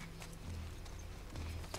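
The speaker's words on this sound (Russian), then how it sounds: "Нам нужна эта лошадь." Horse hooves clip-clopping at a walking pace in The Last of Us Part II, a steady run of close, repeated hoof steps over low game ambience, with no talk.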